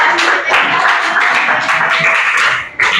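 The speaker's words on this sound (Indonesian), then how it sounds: "tepuk tangan dong untuk kelompok" Classroom applause for a debate group: close, loud, fairly short burst of clapping from students with some voices mixed in, fading slightly before a final sharp clap.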